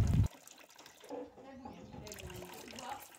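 Water runs from a tap while a small child rinses their hands outdoors in rural Uganda, a soft steady trickle close by, with an adult speaking over it.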